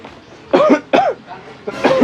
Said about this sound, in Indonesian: Pak Bos lagi batuk ya?